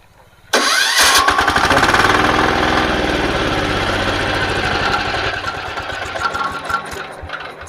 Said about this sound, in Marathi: पुश बटन स्टार्ट आपण बघूया थोडक्यात कसं काम करतं आहे चालू करा